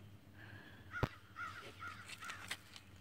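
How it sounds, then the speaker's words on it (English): A crow caws outside several times, spaced harsh calls at moderate distance over low background hum, with a sharp knock partway through. "That's just a bird."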